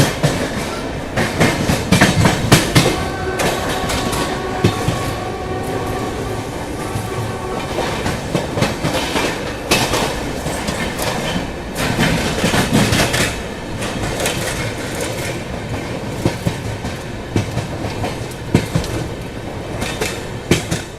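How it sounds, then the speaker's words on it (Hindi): An Indian express train speeds along the tracks near Sahibabad, heard close and loud with a continuous rumbling roar, rhythmic clickety-clack of wheels over rail joints and occasional squeals throughout. "काफ़ी देर बाद साहिबाबाद के पास आवाज़ आई पूर्वा एक्सप्रेस के पीछे से तेज़ी से आते हुए"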